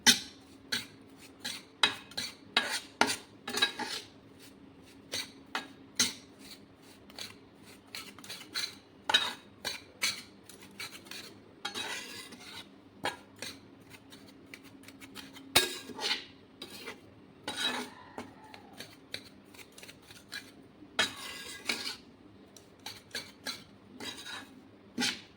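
Powdered sugar being stirred into a wheat flour mixture with a metal spoon, giving close, repeated scraping and clinking against the vessel in irregular bursts, with no voices.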